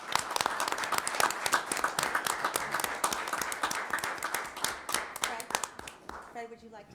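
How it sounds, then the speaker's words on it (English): An audience at a Rotary gathering applauds swift water rescue lifeguards with dense, crisp clapping that stays fairly level, then fades as a voice begins speaking near the end. "Please join me in a round of applause and warm thank you to these remarkable swift water rescue lifeguards"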